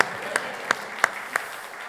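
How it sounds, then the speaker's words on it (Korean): A church congregation at a Korean Sunday morning worship service applauds, a dense steady clapping with a few sharper claps standing out at a regular pace. "우리의 빗장을 열어주신 하나님께 감사와 영광의 박수 한번 했으면 좋겠습니다"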